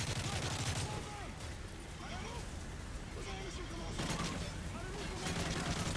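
AK rifle fire in Call of Duty: Modern Warfare 3, with bursts of shots under a busy battle mix of shouting voices and chatter, loud and continuous throughout.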